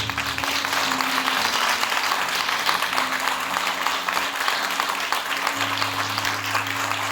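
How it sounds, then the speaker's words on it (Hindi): A church congregation claps together in steady, continuous applause, with a low sustained tone beneath it. "आप कितना खुश हैं? अपनी तालियों से बताएं।"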